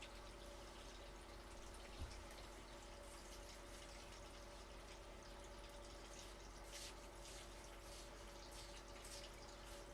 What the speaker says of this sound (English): let's fire up this sluice, get some water flowing